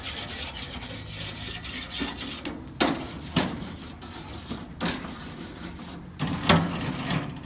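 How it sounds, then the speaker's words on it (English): Grill grate scraped clean with repeated rasping strokes, a series of rough scratchy sweeps at moderate volume with short gaps between them. "Give it a good scrape."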